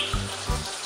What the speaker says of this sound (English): you can also fill up your sink with a small amount of water